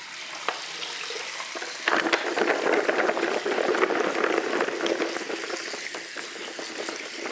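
Running water pours steadily over vegetables being rinsed for a soul food veggie plate in a home kitchen, a continuous splashing hiss that grows louder after the first couple of seconds and holds throughout.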